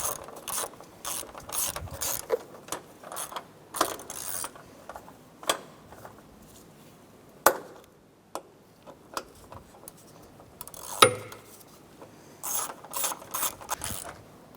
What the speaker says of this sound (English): Go ahead and tighten down the bolts on this side here for the cross brace.